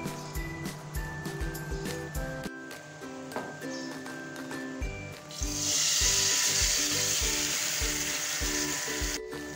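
Tamarind pulp hits a hot pan of oil tempered with spices such as fennel and fenugreek, bursting into a loud, steady sizzle midway that holds to the end, after lighter kitchen clatter and scraping.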